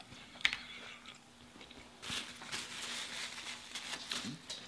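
Close, wet chewing and biting on a triple cheeseburger during a mukbang, soft squelchy bites in a quiet room with a short louder crunchy burst partway through.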